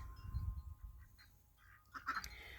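Farmyard ducks feeding at a feeder near chickens, giving a few faint, brief quacks at a distance amid low rumbling background noise.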